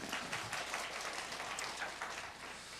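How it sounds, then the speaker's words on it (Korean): Church congregation at a mothers' prayer meeting claps in thanks to God, a continuous, soft, distant-sounding patter of many hands lasting nearly three seconds with no voices over it. "그 에베네셀 하나님께 다시 한번 감사의 박수 부탁드리겠습니다."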